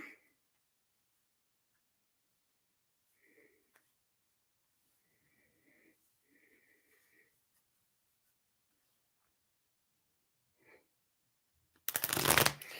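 Tarot cards are shuffled in faint, sparse riffles and soft slides during quiet moments, ending with a louder, close burst of rapid card riffling.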